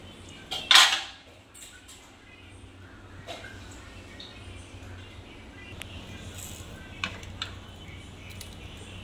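Food being served onto a thala plate: one loud clatter of dishware near the start, followed by a few faint, scattered clinks in a quiet room.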